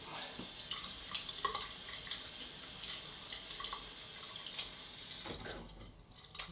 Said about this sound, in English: Right, wet my face.